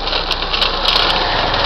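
A motorcycle engine runs nearby on a road where trikes are drifting, a loud, steady buzzing drone with a slight rattle, holding constant throughout with no speech.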